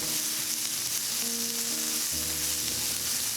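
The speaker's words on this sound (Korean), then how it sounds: "고춧가루 1큰술, 다진 마늘 1큰술, 페페론치노를 넣고 같이 볶아주세요." Chili powder, minced garlic and peperoncino sizzle steadily as they are stir-fried in scallion oil, a continuous loud frying hiss with low clattering tones from the pan.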